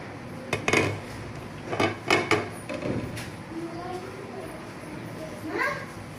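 A pot of chicken kacchi biryani being lifted down and uncovered, with metallic clanks and scrapes of pot and lid, while people talk and children's voices sound in the background.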